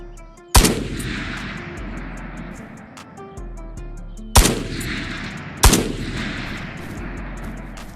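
Three sharp, loud gunshots from the VR shooter Ghosts of Tabor: one early, then two close together later, each with a long echoing tail over a low ambient rumble.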